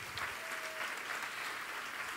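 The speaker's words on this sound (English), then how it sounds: "So, round of applause for Anna." A crowd at a School On Wheels gala at Patriot Place claps for Anna, a continuous, fairly soft wash of many hands that holds steady the whole time.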